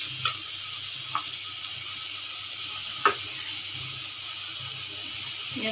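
Hot water added to a pan of frying curry masala for egg curry, a quiet steady sizzle and bubbling with a few faint clinks, no one talking.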